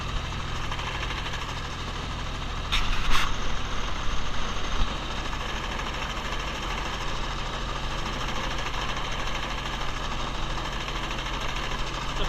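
Sickle mower cutting hay in a field, a steady continuous mechanical drone with a brief sharper rattle near the start, running alone without talk.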